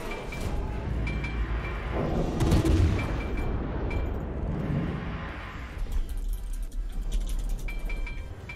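Naval guns boom in a warship video game battle, heavy thuds and rumbling blasts rolling over a constant dense background of combat noise, with faint metallic clinks.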